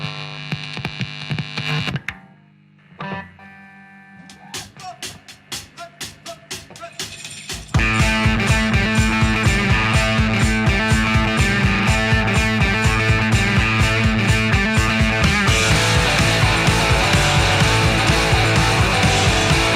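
A 383 stroker crate engine in a 1968 Camaro is cranked over with stuttering bursts, then catches and settles into a loud, steady, throbbing idle that runs on to the end.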